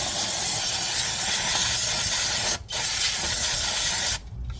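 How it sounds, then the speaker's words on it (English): Aerosol brake cleaner sprayed onto a brake caliper during a 2011 Camry brake swap: a loud, steady close-up hiss running for several seconds, with two brief breaks where the nozzle lets off. "Spray everything down."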